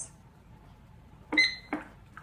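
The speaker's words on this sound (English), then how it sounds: "And this timer, for some reason, although it's the same as the other one I've got, is a lot louder" A kitchen timer sounds two loud electronic beeps in quick succession, followed by a fainter short chirp, in an otherwise quiet room.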